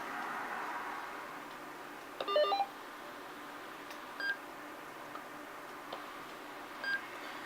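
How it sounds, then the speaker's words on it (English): A Hytera PD785 UHF handheld radio gives its default startup tone, a short cluster of electronic beeps, followed by a few brief, isolated end-of-call beeps spaced a second or two apart over a steady hiss. "that was the startup tone. There's a beep when the call ends"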